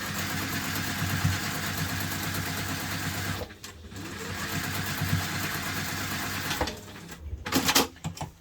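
A sewing machine top-stitches a hipster bag with a fast, steady whirring run of about three seconds, then pauses briefly before stitching again in short bursts.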